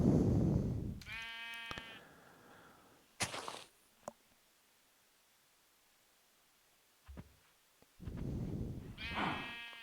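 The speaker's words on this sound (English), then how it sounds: "Hi, sheep." Sheep in the video game Minecraft bleat in several short, separate calls, loud and close, with quiet gaps between them and a few soft clicks.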